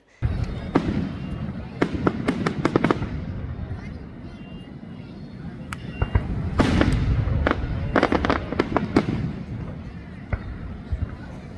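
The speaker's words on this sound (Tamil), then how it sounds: "ஃபயர் ஒர்க்ஸ்லாம் பார்த்துட்டு" Fireworks at an outdoor New Year celebration after a live concert, with scattered sharp bangs and crackling bursts, some in quick clusters, over a continuous rumbling crowd and ambient noise.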